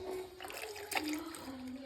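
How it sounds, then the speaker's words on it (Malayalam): Milk is poured onto mashed banana in a home kitchen: a short, soft liquid splash and trickle lasting under two seconds, close by, over a faint steady hum. "പാല് ഒഴിക്കാം."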